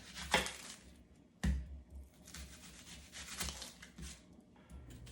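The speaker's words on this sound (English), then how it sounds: "we're going to chop up a little bit of the onion" An onion is chopped with a knife in a few sharp, close cuts followed by softer scraping and rubbing on a board, quiet between strikes.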